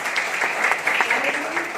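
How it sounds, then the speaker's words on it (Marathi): A brief burst of applause from an audience at a product presentation, dense clapping mixed with some voices, lasting under two seconds. "या प्रोडक्ट साठी खरंच तुम्ही जोरदार टाळ्या वाजवा"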